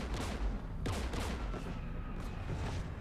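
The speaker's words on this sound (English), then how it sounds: "That's an anti-aircraft cannon." Rapid bursts of heavy anti-aircraft cannon fire in the video game Mass Effect 3 boom out in quick succession, sharp and punchy, followed by a lingering rumble with no voices.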